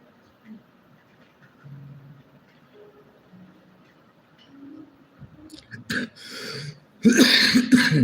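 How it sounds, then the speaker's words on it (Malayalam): After a quiet stretch of faint murmuring, a person coughs a few times, close and loud, ending in a harsh burst. "ചുമയൊക്കെ പിടിച്ചോട്ടോ ചുമ ഇപ്പോൾ കൂട്ടത്തിനുണ്ട് കുറച്ച് നാളായിട്ട് ചുമയുണ്ട്"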